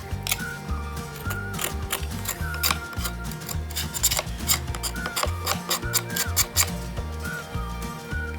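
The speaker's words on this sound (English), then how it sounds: "It's just scraping the meat off the bone." A knife scrapes meat off BBQ rib bones to french them, giving close, repeated rasping strokes in an uneven rhythm, with no talking.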